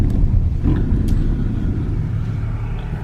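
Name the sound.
Chevy Equinox AWD driving down the road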